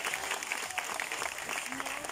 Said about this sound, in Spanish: Por favor, démosle el fuerte aplauso.